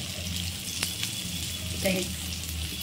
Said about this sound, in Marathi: सो आता सोडले आहेत तव्यात बांगडे.